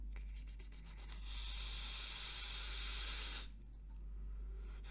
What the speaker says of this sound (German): ich dampfe jetzt noch einmal und dann mach mein Ende